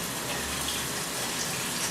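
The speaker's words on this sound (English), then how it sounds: "rinse this pan out with some water in it" Tap water runs steadily into a pan for rinsing in a home kitchen, a continuous soft rushing hiss with no breaks.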